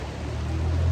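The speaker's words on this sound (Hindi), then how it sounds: "बहुत तेज बारिश आ गई।" Steady rain hisses densely, with a constant wash of noise and a low rumble underneath, growing slightly louder.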